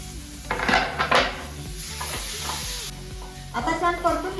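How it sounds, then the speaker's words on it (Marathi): Tomatoes sauté with chilli powder and salt in a hot pan, a steady close sizzle broken by scraping spatula strokes and a few clinks of metal against the pan, with no voices. "आता छान परतून घेऊया।"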